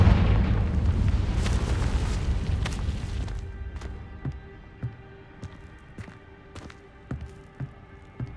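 A fire-spell blast from Hogwarts Legacy erupts loud and dense for about three seconds, its rumble tailing off into scattered sharp pops and crackles.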